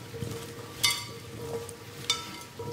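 Roasted vegetables being tossed and mixed with seasoning and pepper in a bowl, giving soft scraping rustles with two sharper clatters, close and fairly quiet, with no talking.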